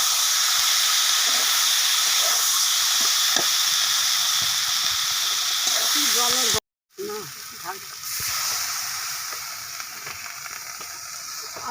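Potatoes and eggplant fry with onion paste in a pan for a hilsa fish curry, giving a constant loud sizzle and hiss that breaks off briefly, then returns slightly softer.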